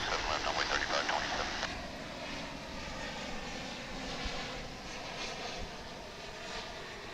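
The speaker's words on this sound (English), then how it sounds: "we're about to see the daily, I think it's daily, American Airlines flight from Anchorage. It's an Airbus A321." An American Airlines Airbus A321 airliner passes with a steady, distant engine roar and broadband rumble at an airport, while a voice is faintly heard.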